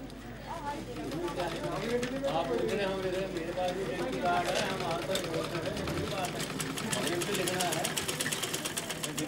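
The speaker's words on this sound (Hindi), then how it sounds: "यहाँ इस केंद्र में मशीन से सिलाई सिखाई जा रही है।" Several sewing machines running together at a sewing training centre, a loud continuous mechanical whir with rapid rhythmic stitching ticks, heard close and under overlapping voices and chatter.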